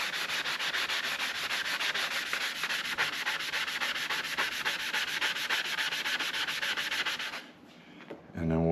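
A disc sander runs at 120 grit across a cast-iron planer table, a loud continuous abrasive rasp with a steady rhythmic whir, stopping abruptly near the end as the motor spins down.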